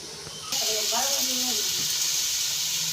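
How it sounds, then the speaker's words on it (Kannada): Chopped onions sizzle with salt in a hot pan, a steady close hiss that starts suddenly and carries on throughout, with a voice speaking briefly over it. "ಉಪ್ಪು ಹಾಕಿ ಒಂದು ಸಲ ಹಿಂಗೆ ಬಾಡಿಸ್ತಾ ಇದ್ದೀನಿ"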